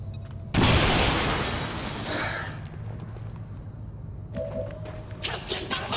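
A grenade goes off in the video game XCOM 2, a loud sudden blast that rolls out into a long rumbling decay, followed by quieter game sounds and faint talk.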